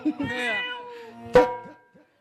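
A performer in a comic Ramamandal folk drama imitates a cat's meow with drawn-out, wavering vocal cries, followed by a short sharp yowl, close and clear.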